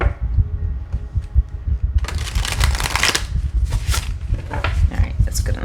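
A stiff new tarot deck being shuffled by hand, soft riffling at first, then bursts of crisp, close card-flapping under low voices.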